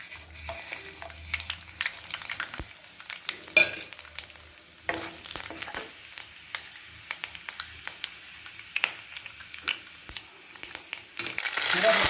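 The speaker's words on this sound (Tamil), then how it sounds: "குழம்புக்கு தேவையான கடுகு உளுத்தம் பருப்பு, சீரகம், வெந்தயம், காஞ்ச மிளகாய் எல்லாத்தையும் போட்டு நம்ம தாய்ச்சிக்கலாம்." Mustard seeds, urad dal, cumin, fenugreek and dried chillies tempering in hot oil for a tamarind curry, crackling and sputtering with scattered sharp pops and stirring scrapes, close and moderately loud, rising toward the end.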